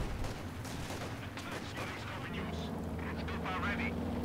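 Mortar and battlefield gunfire in the Company of Heroes 2 strategy game, a dense, continuous rumble of distant blasts and shots running the whole clip beneath a commentator's voice.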